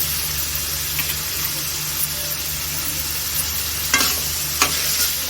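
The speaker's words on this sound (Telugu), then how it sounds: "క్యాబేజీ వేసుకున్న తర్వాత కలిపేసుకోవాలి." Shredded cabbage sizzles steadily in a frying pan with salt, and a spatula makes a couple of brief scraping stirs over the constant close frying hiss.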